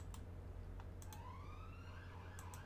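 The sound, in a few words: siren of emergency vehicles in Cities Skylines video game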